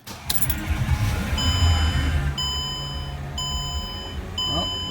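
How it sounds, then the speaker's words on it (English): The low electric brake pump of a 2006 Mercedes CLS500 whirs into action for a couple of seconds, with steady high-pitched electronic tones and beeps sounding alongside. "hear the pump starting up right now."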